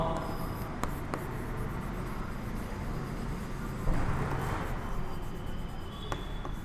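A pen scratches steadily across paper while a maths equation is written out, a soft continuous rasp with a few small taps, close and even, over a constant background hum.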